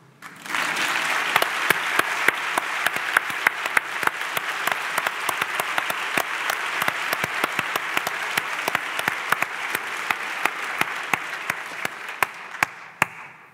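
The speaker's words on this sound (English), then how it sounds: "I would ask all the women in this room to applaud the men" Audience at a conversation event applauding at length, dense continuous clapping with sharp individual claps standing out, rising quickly at the start and fading near the end.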